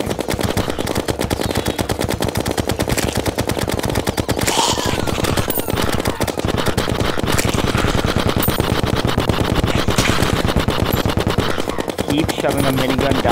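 A video game minigun fires nonstop at a blistering rate, a loud, close, unbroken rattle of rapid shots with faint extra game noises mixed in.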